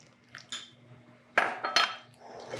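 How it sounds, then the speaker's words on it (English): Buttermilk being stirred into Irish soda bread dough in a bowl, heard as a few scattered clinks and scrapes of a utensil against the bowl, close and fairly quiet, with no talking. "And then we're going to stir in the buttermilk."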